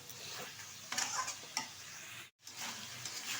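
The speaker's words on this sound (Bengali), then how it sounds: "এখন ভালোভাবে কষিয়ে নিচ্ছি" Dried lotte fish (shutki) curry stirred and fried in a pan, with soft continuous sizzling and several scraping spatula strokes, briefly interrupted by a moment of silence before resuming.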